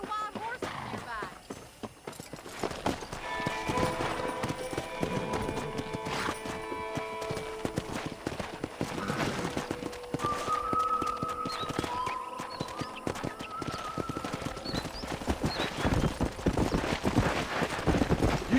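Horse hooves clip-clop in a rhythmic gallop in the Western video game Red Dead Redemption, mixed with occasional whinnies and game sound effects, running under talking voices throughout.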